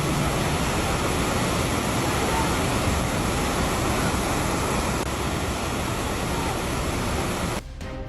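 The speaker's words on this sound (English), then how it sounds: "Every sound of the flood, from the roar of rushing water to the crash of collapsing structures," Rushing floodwater from Super Typhoon Yagi roars as a dense, steady broadband torrent, loud and unbroken throughout, cutting off abruptly near the end.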